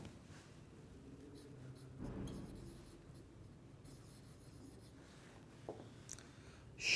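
Faint scratching strokes of writing on a board during a chemistry lecture, a steady run of marks with a few brief taps, fairly quiet, with no talking over it.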